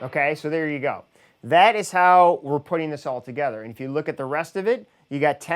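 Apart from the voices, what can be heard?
No distinct noise like a dog, phone or traffic.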